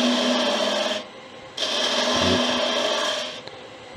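A small gouge cuts a wooden Venus figurine on a spinning lathe, giving a steady close rasping scrape that stops briefly partway through, then resumes before tailing off.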